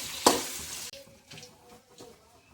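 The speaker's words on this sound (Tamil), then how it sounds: "கத்திரிக்காய் அதில் போட்டு நல்லா வதக்கிக்கோங்க." Eggplant is dropped into hot oil with fenugreek and curry leaves for a dried fish curry, setting off a sharp burst of sizzling, then softer frying crackles and stirring noises nearby.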